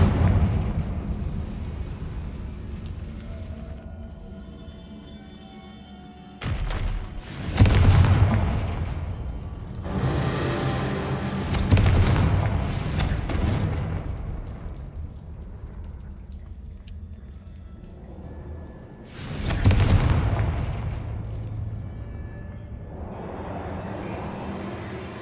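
Spell blasts from Bombarda and Confringo in Hogwarts Legacy, a few loud booming explosions with crackling debris tails spaced across the stretch, each swelling and decaying over a low rumbling background.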